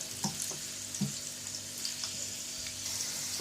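Chopped garlic cloves sauté in hot oil in a frying pan for chole salan, with a steady close sizzle and a few soft taps and stirs.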